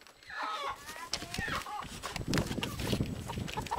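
Chickens on a small farm giving short clucks and squawks close by, mixed with people talking over them.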